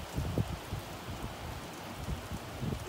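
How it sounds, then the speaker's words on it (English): Rain falling outdoors near a church, a soft steady patter with scattered louder drops at close range, no voices over it. "Look at it raining."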